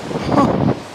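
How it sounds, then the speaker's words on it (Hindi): Strong, chilly Himalayan wind gusting at Chitkul, a brief broadband rush that swells and buffets the microphone, loud and close. "बहुत तेज हवा है यहाँ पे"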